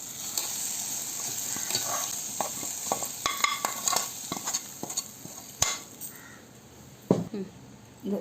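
A cooked tomato and onion tempering is stirred into curd, giving irregular scraping and clinking stirs with soft wet sizzling under a steady faint hiss, close and fairly quiet.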